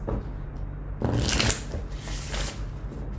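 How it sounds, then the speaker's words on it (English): Oracle cards printed with cats shuffled once by hand, a brief papery riffle and flutter of card stock building to a short burst, close and fairly soft with no talking. "So here's the cute little cards with the cats. And I'm going to shuffle it once."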